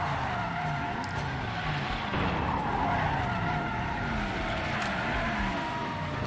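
A car skids in Resident Evil 7, a steady loud tire-scraping screech with engine roar running continuously throughout, no talking over it.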